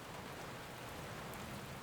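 Steady rain falling on a garden of rose bushes and hydrangea plants, a dense, even hiss of drops with no breaks, close and enveloping.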